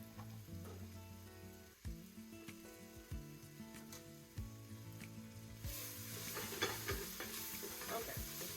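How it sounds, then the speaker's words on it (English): Garlic cooks gently in a pan, a low steady sizzle with occasional stirring scrapes, played softly under a background hum that brightens into stronger hissing near the end. "cook that for a few more minutes. You don't want to brown the garlic"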